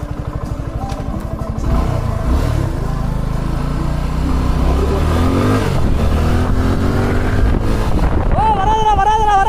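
A Suzuki Gixxer motorcycle rides another lap at an event test track, its engine loud and close with rising revs and wind buffeting, while people talk briefly over it.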